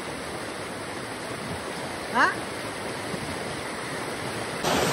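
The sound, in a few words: river flowing full of water during rain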